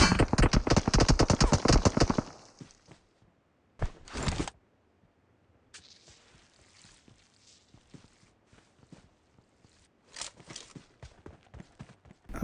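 Gunfire in the mobile battle royale game BGMI: a rapid close automatic burst at the start, then a short burst and sparse scattered shots fading to quieter distant pops, with footstep-like taps between.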